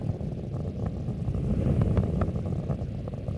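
Space Shuttle Atlantis on mission STS-104 roars as its main engines throttle up to 104% of rated performance, a steady, heavy, distant rumble with no pauses.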